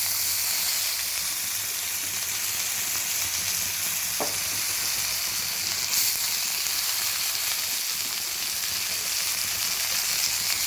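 Soaked moong dal sautés in a hot pan, giving a steady broadband sizzle with faint stirring clicks, continuous and close throughout.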